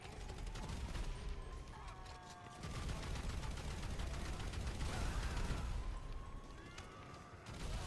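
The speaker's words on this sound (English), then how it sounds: "Takes a lot of bullets to shoot down a tank." Sustained gunfire in GTA 5 pours onto a tank, rapid dense shots overlapping with metallic clanks and mechanical noise, loud and continuous throughout.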